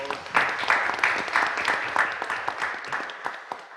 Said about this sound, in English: So let's give Riley a round of applause.